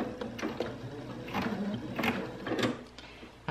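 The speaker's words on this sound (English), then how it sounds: "I'm going to do a straight stitch. I'm going to go forwards." Sewing machine running a straight stitch through heavy drop cloth fabric, short uneven bursts of rhythmic mechanical chatter and thumping as it goes forward, moderately loud and close.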